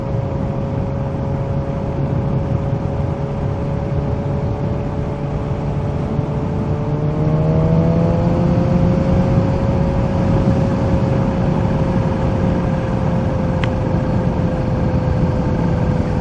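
Kawasaki Z H2 supercharged motorcycle cruising at steady speed, a continuous engine drone with harmonic tones that shift pitch slightly partway through as the engine changes revs, under constant wind rush, with no talking.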